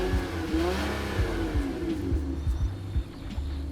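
The 3.5-liter V6 of a 2024 Honda Odyssey Touring revs up and down several times in quick succession, loud and close, with its rising and falling engine tone clearly heard and no one speaking.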